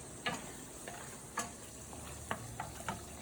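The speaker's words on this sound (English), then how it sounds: "I can hear my risotto cooking" Low steady sizzle and gentle bubbling from risotto simmering in a pan, with occasional soft pops and clicks over the quiet simmer.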